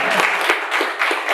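An audience applauds, a close, crackling patter of many hands clapping with soft pulses of stronger bursts through the short stretch, with no voices over it.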